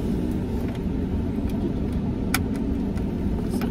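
Steady low road rumble of a car driving, heard from inside the cabin, with a faint jingle of keys and small interior clicks over the constant engine and tyre drone.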